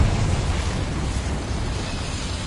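A Confringo explosion spell in a Harry Potter video game, heard as a loud, sustained, roaring fiery burst that fills the short moment without a clear break.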